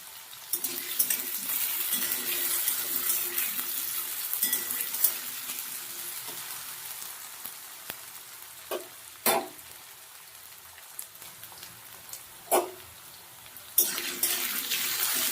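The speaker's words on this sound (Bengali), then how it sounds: "আলুটাকে একটু নাড়াচাড়া করে নেওয়া হয়েছে তেলের মধ্যে" Cut potatoes fry in hot oil on a medium gas flame, giving a steady sizzle broken by occasional sharp scrapes and clacks as they are stirred in the pan.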